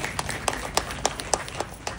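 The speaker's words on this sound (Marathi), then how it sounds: "एकदा जोरदार टाळ्या होऊ देत त्यांच्यासाठी." Scattered hand claps from an audience at an awards ceremony, irregular and fairly soft, with a few sharper claps standing out from a low background murmur.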